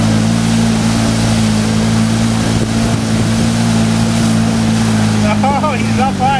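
A Can-Am ATV engine drones loud and steady as the machine drives into a water-filled hole, with churning water and an excited voice shouting near the end.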